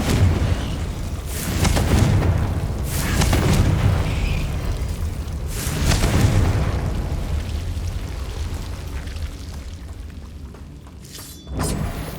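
Confringo blasting spell explosions in the Hogwarts Legacy game: several loud booming bursts with shattering crackle, each swelling and fading over a dense rumbling combat bed, then a sharp final blast near the end.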